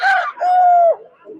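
A rooster crows at a busy poultry market, one drawn-out call with a rising start and a long held note, loud and close, followed by faint background fowl noise.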